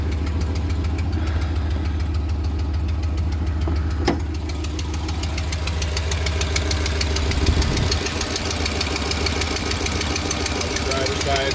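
An engine idling with a leaking exhaust manifold on the driver's side gives a steady, close, rough rumble with rapid ticking and knocking pulses throughout, continuous for several seconds.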